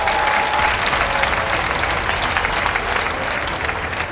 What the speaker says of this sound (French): Est-ce que vous pouvez acclamer pour vous-même?